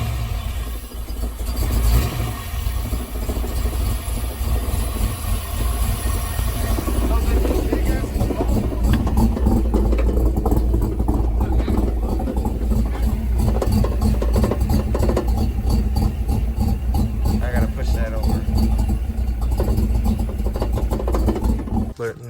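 A Ford Mustang Foxbody with a 5.0 302 V8 runs during an overhaul, a steady loud engine drone that holds through the stretch with blips in revs and people talking over it.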